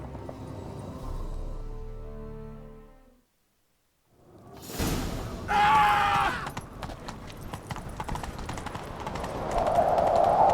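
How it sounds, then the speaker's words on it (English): Galloping horse hooves thud and clatter in The Witcher 3: Wild Hunt, starting after a brief silence, with whooshes and a swelling rush toward the end. "Grab a horse, we'll chase him down."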